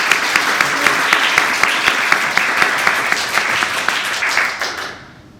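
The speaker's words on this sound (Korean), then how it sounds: "하나님께 우리 감사의 박수를 한번 올려드리면 어떨까요?" A church congregation at Sunday worship claps steadily for about five seconds, dense and even with sharp individual claps standing out, before the applause trails off quickly into quiet.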